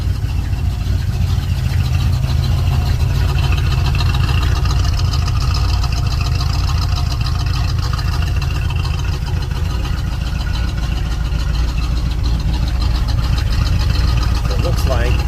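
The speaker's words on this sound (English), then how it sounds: "She'll sit here and idle all day long" A 1972 GMC Suburban engine idles steadily up close, a constant low rumble with an even pulse that holds without change for the whole stretch.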